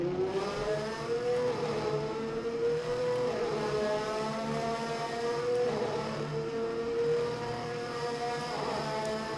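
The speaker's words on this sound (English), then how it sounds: "once we get to 6th gear, the turbo cars just drive away." 1988 Formula One turbo race cars in the rFactor 2 racing game, engines droning loud and continuous as they accelerate through the gears with rising harmonic whine, no talk over it.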